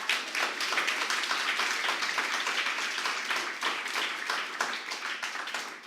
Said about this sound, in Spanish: Dale un aplauso al Rey si puede.